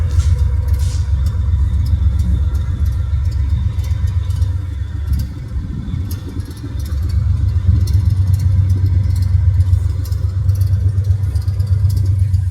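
A vehicle engine pulls steadily in third gear after a smooth turnaround, a loud, close, low rumble that dips briefly midway and then settles back to an even drone.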